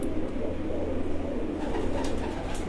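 Breeder pigeons on a rooftop loft, soft low cooing repeating in a continuous murmur, close by, with a few faint bird chirps above.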